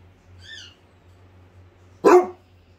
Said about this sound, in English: Why are you barking, Millie?